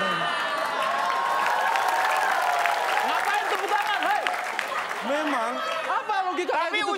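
An audience claps steadily for the whole stretch, a dense, even patter of many hands, while voices talk and call out over the applause toward the end.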